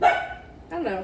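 Short barks from a dog nearby break through as someone talks, brief and fairly loud.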